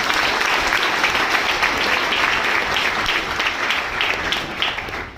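Loud, sustained applause from an audience welcoming newcomers at a business opportunity presentation, a dense continuous clapping that fills the room and eases slightly near the end.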